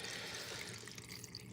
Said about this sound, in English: This is a Chinese waterfall